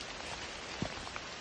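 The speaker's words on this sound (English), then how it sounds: "It's starting to rain hard again." Heavy rain falls on a trail in a dense, steady hiss, with a few sharper drips and pattering hits rising out of it.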